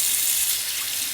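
Hot water from a tankless heater pouring steadily from a faucet, a continuous close hissing splash with no talk over it.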